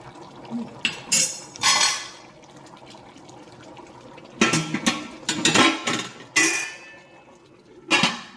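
Metal pots and a lid clank and rattle in bursts while brown stew chicken cooks, several sharp knocks spread across quiet stretches with a soft background hiss.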